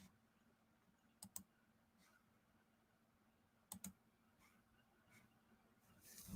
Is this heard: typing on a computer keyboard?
yes